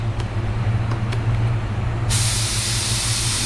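A spray gun laying down candy red paint on a repair, a steady close airy hiss that surges abruptly louder and brighter partway through and holds.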